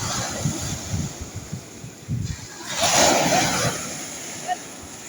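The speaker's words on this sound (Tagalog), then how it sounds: "Napakalakas ng alon po dito." Strong sea waves at a beach rush and crash, with a bigger surge midway, while gusty wind buffets the microphone with low thumps throughout.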